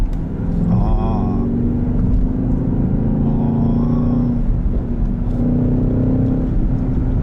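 A BMW XM plug-in hybrid with a V8 rumbles loudly from inside the cabin as it accelerates, its engine tone rising in a few surges with pops in between. Voices are heard faintly over the engine.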